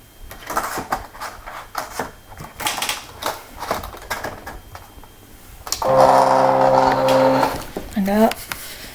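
A Silhouette cutting machine whirs steadily for a couple of seconds while feeding paper, then a short rising mechanical trill, with speech before and around it.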